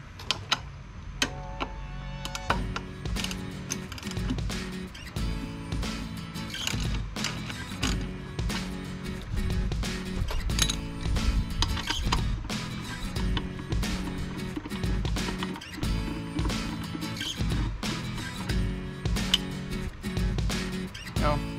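Sharp ratcheting clicks come from a size 8 socket wrench backing a bolt out of a Harley-Davidson Road Glide Special, repeating in quick bursts over steady background music.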